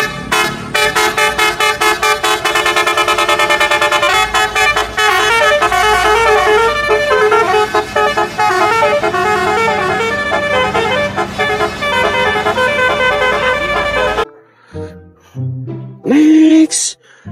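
A Subur Jaya bus blasts a loud musical horn, a long rhythmic melody of rapid repeated toots lasting many seconds, close and dominant, then cutting off into quieter street sound with a brief final honk.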